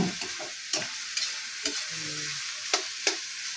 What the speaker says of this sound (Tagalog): Pag magba-brown na, pwede na ilagay si gulay.